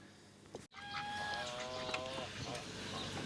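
Domestic ducks roaming free outdoors give a run of nasal quacking and honking calls, close by and moderately loud, with a person speaking at the same time.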